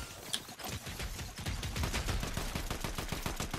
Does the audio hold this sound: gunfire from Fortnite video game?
yes